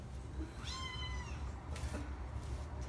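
A cat gives one clear, drawn-out meow indoors, fairly close, followed by quieter faint mews over a low background hum.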